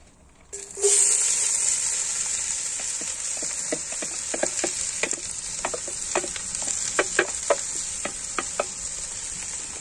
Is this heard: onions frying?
yes